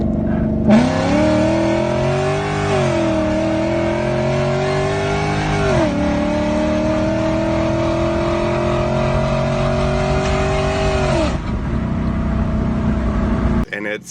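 An Infiniti M45 with a full exhaust and stock manifolds accelerates hard through several gears. The engine note climbs, drops at each shift, then climbs again, loud and close, with no talk over it.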